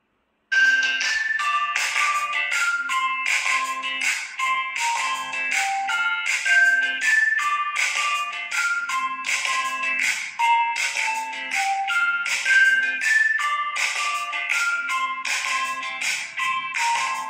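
A sound sample of music played at maximum volume through the loudspeaker of an itel City 100 phone, a continuous bright melodic tune with rhythmic notes lasting throughout, loud and alone without speech.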